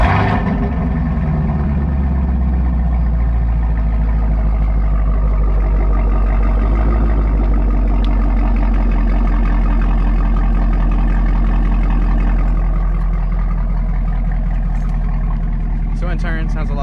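A deep, loud V8 engine of a 2016 Chevrolet Camaro SS with Borla ATAK aftermarket exhaust rumbles steadily at close range on a cold start, a throaty low exhaust note idling with slight revs throughout.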